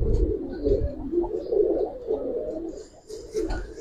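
Pigeons of Giribaz and related fancy breeds cooing in a loft, a steady low murmuring of overlapping coos with a few faint chirps above, continuous and fairly close throughout.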